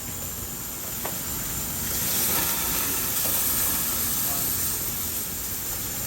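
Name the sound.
ribs sizzling as they are laid on the grill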